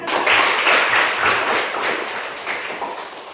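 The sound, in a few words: audience clapping hands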